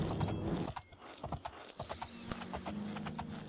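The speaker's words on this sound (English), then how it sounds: "I can outrun it now with this horse." A horse galloping in the video game The Elder Scrolls IV: Oblivion, quick irregular hoof clops close by with some clanking and rattling mixed in, at a moderate level with no talk.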